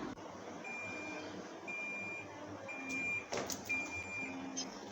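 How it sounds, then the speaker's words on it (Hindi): A Haier automatic washing machine sounds its end-of-cycle beeps: short, thin electronic tones repeat at a steady pace over a low background hum. One brief louder clatter breaks in near the middle. "अब इसने बीप कर दिया है"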